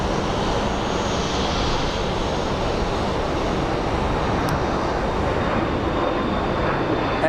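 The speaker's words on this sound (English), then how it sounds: "there goes our little Embraer" An Embraer airliner passes at Sky Harbor Airport, a steady broad roar of jet engines holding loud and constant throughout, with no talk.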